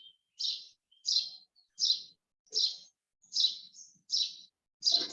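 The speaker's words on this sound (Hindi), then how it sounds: "पंछियों की आवाज आ रही है" A bird chirps about seven times in an even rhythm, each short bright tweet clear and fairly near against near silence.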